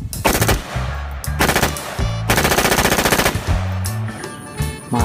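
A toy M4 gun fires rapid, rhythmic bursts of loud, close automatic-style shots in several volleys.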